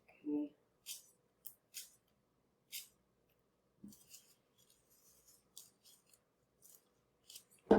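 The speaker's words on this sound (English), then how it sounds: "cut those pieces a little bit smaller" Scissors snip paper pieces for a jellyfish suncatcher in short, crisp, separate cuts, close and quiet against near silence, with a brief voice at the start.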